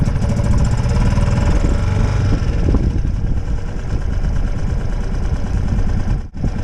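A boat engine on a sailing boat idling after starting, with a loud steady low rumbling chug that continues nearly unchanged, then a brief dip near the end, close by and without speech.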